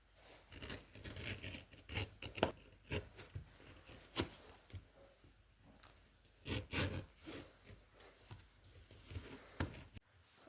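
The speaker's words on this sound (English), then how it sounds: "Now I will just use my number 2 craft tool edger to edge all around." A No. 2 edger tool shaves along the edge of a leather pancake knife sheath, giving soft, close scraping strokes in an irregular series of short pulls, quiet and without talk.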